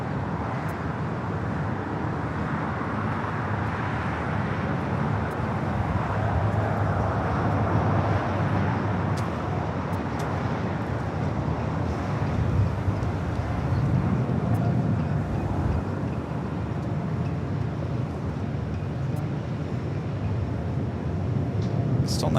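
A Singapore Airlines Boeing 777-300ER in Star Alliance livery takes off from runway 24 left at LAX, producing a sustained, broad jet roar that stays loud and steady throughout, with faint speech mixed in.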